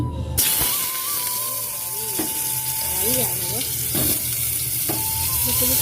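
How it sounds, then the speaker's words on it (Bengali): Salted eggplant pieces fry in oil inside a pressure cooker, a steady hiss and sizzle running throughout with a low hum beneath and brief clatters of stirring. "যে বেগুনটা নুনগুলো মাখিয়ে নিয়েছি এবারে ফেলবো প্রেসার কুকারে তেল দিয়ে দিয়েছি"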